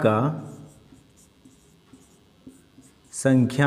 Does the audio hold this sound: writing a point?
yes